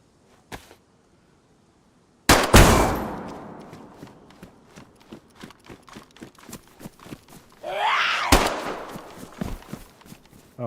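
Gunfire in the survival video game DayZ: a short shot, a pause, then a loud close blast with a ringing decay, rapid ticking and clattering effects, and another sharp shot with a burst of noisy debris afterward.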